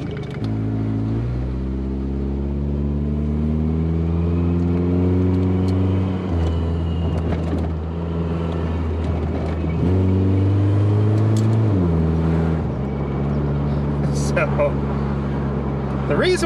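A car with a broken radiator fan runs and drives, its engine holding a loud, steady hum that shifts pitch in several steps as it revs and changes speed, continuous throughout.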